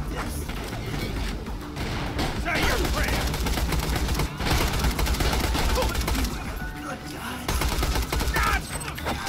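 Rapid gunfire and crashing impacts from the shooter game Borderlands: The Pre-Sequel, dense and loud throughout with brief dips, mixed with game effects and faint voices.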